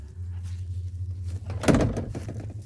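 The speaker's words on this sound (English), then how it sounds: "big heavy door." A low engine hum runs underneath, then a single heavy door of a 1977 Chevrolet Nova thunks and swings open with a brief rattle, close by.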